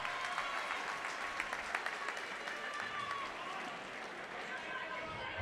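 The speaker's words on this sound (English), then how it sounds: "Give both these men a big round of applause." A crowd at a muay thai fight event applauds both fighters, a steady wash of clapping and cheering that runs unbroken from start to finish at moderate loudness, with an announcer's voice over it.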